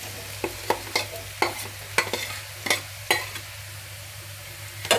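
Chopped chow chow is stirred in a frying pan, with about a dozen crisp scraping strokes of a spatula over a low steady sizzle and hum, close and loud, and no one speaking.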